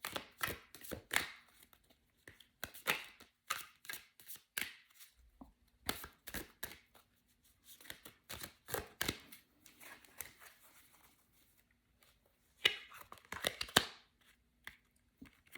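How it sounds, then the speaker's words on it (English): Tarot cards are shuffled in repeated bursts of quick riffling and slapping, close and crisp, with short pauses between handfuls. "Let's mix the cards up."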